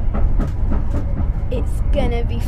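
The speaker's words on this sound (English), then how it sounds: "So we're on a train heading to London." A passenger train heading to London rolling on its rails, with rhythmic clicks and rumble over a steady low-frequency hum, heard from inside the carriage alongside faint voices.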